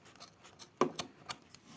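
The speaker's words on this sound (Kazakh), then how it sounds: "Сол үшін мына жағынан қиып тастаймыз." Scissors snipping through fabric for a large sewn tablecloth, a few crisp close cuts, one stronger clip followed by lighter snips in a quiet room.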